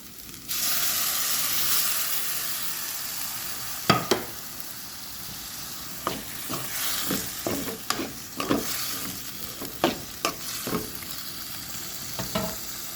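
Tomatoes frying in a pan with a steady background sizzle, while a spoon stirs and scrapes in irregular clanking strokes, close and moderately loud, with no one talking.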